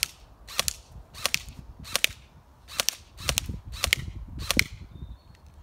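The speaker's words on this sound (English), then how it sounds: "I'm going to take a couple of shots with the ST Beta airsoft gun" Seven sharp single shots from an ST Beta airsoft gun firing BBs on semi-auto, evenly spaced snapping cracks close by, each with a faint mechanical clack, no talking.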